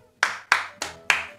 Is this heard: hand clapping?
yes